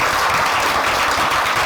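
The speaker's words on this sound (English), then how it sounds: "Can we give her a round of applause?" Audience applause fills the whole moment, a dense, steady wash of clapping with no break and no voices over it.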